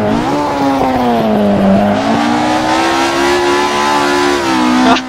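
A 1970s Ford Escort RS 1600 engine revs hard in Assetto Corsa on the Nordschleife, holding a loud, steady high-pitched drone for about five seconds with small pitch dips and tire squeal as it drifts.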